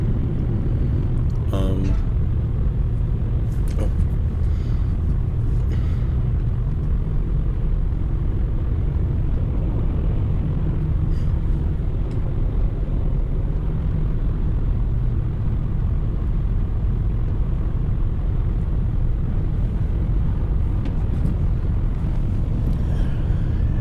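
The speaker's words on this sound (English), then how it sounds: "my minivan is not the lightest thing" A minivan cruises along the I-8 highway, a constant low road and engine rumble with steady tire hiss heard from inside, unbroken for the whole stretch.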